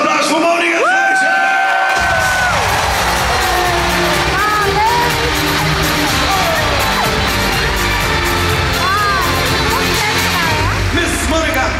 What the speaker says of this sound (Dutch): Mag ik een ovationeel applaus voor Monica Fleutsen?